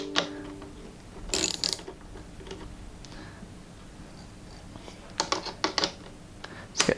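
A 10mm socket ratchet clicks in short, quiet bursts while undoing nuts on the front end of a modular ECU, with soft handling noises between the bursts.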